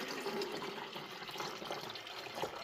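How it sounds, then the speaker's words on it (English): Water poured into the top reservoir of a VEVOR countertop ice maker, a faint, continuous splashing trickle with no voices. "So let's throw some water in there."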